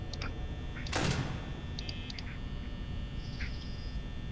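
A door closes in the horror video game FNaF Determination 3 with one short, sharp mechanical clunk, heard over a steady electrical hum and a few faint electronic blips.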